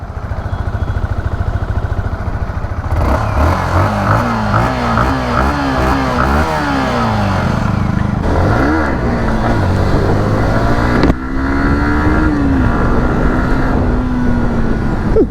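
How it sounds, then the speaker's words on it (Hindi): A 2025 Yamaha MT-15 V2 155cc motorcycle stands still and blips its exhaust through a series of loud, close revs. The sharp pitch rises and falls settle into a held, rising note. "अब पहले आपको मैं एग्जॉस्ट की साउंड सुनाता हूँ"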